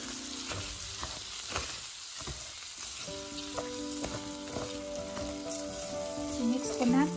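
Rice fries and sizzles in hot oil with chorizo, a steady crackling hiss broken by scraping stirs of a utensil against the pan, close and moderately quiet with no talking.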